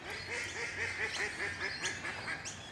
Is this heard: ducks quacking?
yes